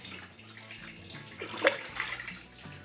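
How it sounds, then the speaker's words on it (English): Liquid pours and trickles through a grain bed while a one-gallon Belgian Tripel is brewed in a kitchen, a steady watery rushing that swells briefly in the middle and carries on alone. "that's all the liquid pouring through"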